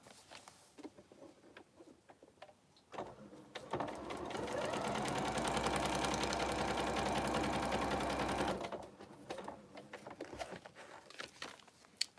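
A sewing machine stitches quilt fabric in one continuous whirring run of rapid needle strokes lasting several seconds, framed by quieter handling rustles and soft clicks before and after.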